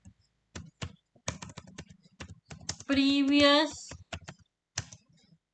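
Code being typed on a computer keyboard, with sparse clusters of quick clicks alongside someone speaking.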